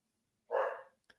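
One dog barks once after a moment of silence, a short mid-loud woof at close range, followed by a faint brief click.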